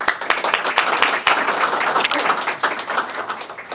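Warm applause greets the host at a cybersecurity breakfast event, a moderate crowd clapping steadily with individual claps distinct, holding evenly for a few seconds.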